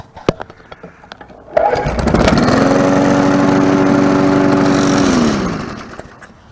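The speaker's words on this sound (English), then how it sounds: "Today we're going to service the lawnmower for the summer." A lawn mower engine, due for its summer service, is pulled into life after a few light clicks and knocks, then runs at a steady, loud drone for several seconds before winding down. No one speaks.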